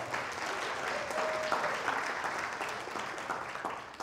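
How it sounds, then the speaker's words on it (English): Forum audience applauding themselves during Older Americans Month, a steady wash of many hands clapping at moderate distance, even and sustained with a faint tonal whine briefly above it. "give ourselves a round of applause"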